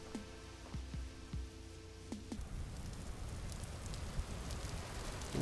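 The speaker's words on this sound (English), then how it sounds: "it's raining." Rain falling in the survival game Vintage Story, a steady soft hiss of rainfall at low volume, with a few faint tonal game sounds early on and no talking.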